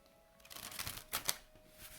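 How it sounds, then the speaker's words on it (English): A tarot travel deck of plain-edged cards is fold-in shuffled close by, a quiet run of riffling flutters that builds to two sharp snaps near the end, heard alone. "And try some fold-in shuffling."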